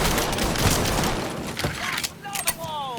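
Bursts of gunfire in a firefight in the video game Mafia 3, a dense rapid volley up front easing into scattered shots and ringing tails, loud and close.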